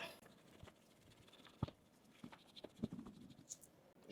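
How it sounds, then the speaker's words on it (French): Handwriting on paper, faint close scratches and light pen taps in an uneven stroke rhythm, with a couple of small knocks, no talking. "Donc, je vais écrire la troisième étape."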